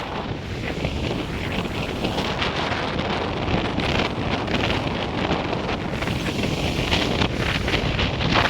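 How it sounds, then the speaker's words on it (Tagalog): Powerful typhoon wind during Super Typhoon Uwan at Calayo, Nasugbu, Batangas, roaring steadily and buffeting the microphone with loud, continuous gusts, with faint water or surf sounds beneath. "ang lakas ng hangin"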